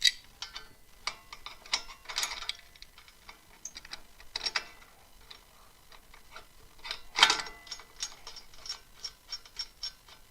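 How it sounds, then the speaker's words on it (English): A wood-turning scraper is sharpened in irregular short rasping strokes with scattered pauses. One stroke near the end is louder and longer than the rest, and no one speaks. "Just got to sharpen this scraper up a bit."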